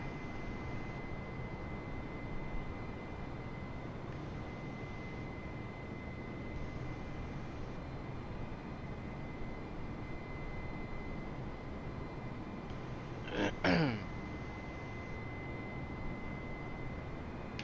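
A light aircraft on a roughly hour-long cross-country flight from Georgia to Kansas drones steadily from inside the cabin, a constant loud engine hum that continues unbroken, with a short clicking blip near the end.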